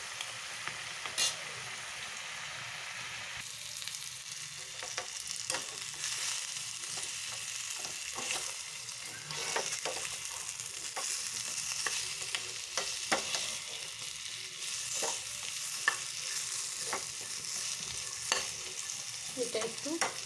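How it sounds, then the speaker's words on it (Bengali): Spices sautéing in oil in a pan for elephant foot yam curry, a continuous sizzle broken by frequent scraping spatula strokes and clinks, close and moderately loud, with no one speaking. "মশলাটা দিয়ে একটু কষিয়ে নেব।"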